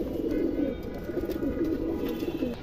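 Several big-headed fancy pigeons, including large-sized birds, coo steadily and continuously at close range in a loft, a dense overlapping murmur with no talk.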